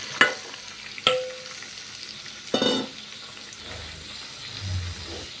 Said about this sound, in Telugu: మనం కట్ చేసుకున్న టమాటా పచ్చిమిర్చి ముక్కలను ఆయిల్లోకి ఫ్రై